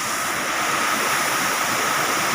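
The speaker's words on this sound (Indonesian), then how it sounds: "air yang tidak diperlukan atau terlalu banyak dia dibuang ke sini, ke sungai tradisional lagi" Surplus water released through a sluice gate and discharged into a traditional river channel, a loud, continuous broadband rush of churning water, steady and close, with no talking.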